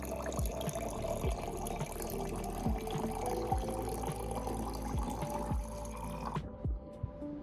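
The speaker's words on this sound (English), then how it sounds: "Then fill it up with room temperature water, enough to fully submerge every piece." Room-temperature water pours into a jar packed with potato pieces, a steady trickling fill with repeated drips and splashes, close and fairly loud, before the flow stops abruptly near the end.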